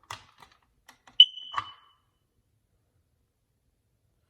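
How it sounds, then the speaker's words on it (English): Smoke alarms under test give one sharp, piercing electronic beep that rings for just under a second, preceded by a few light clicks and handling taps, then silence follows. "I thought in case you'd want to see the alarms tested"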